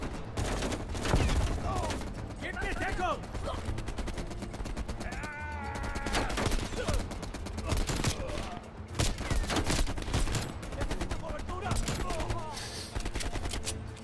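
Gunfire in Call of Duty: Black Ops Cold War, a pistol among the weapons: rapid bursts of shots crack repeatedly through a busy, noisy game scene.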